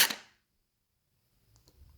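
A single sharp crack from an AUG Steyr gel blaster with an upgraded spring, loud and close at the very start, then near silence with faint handling noise.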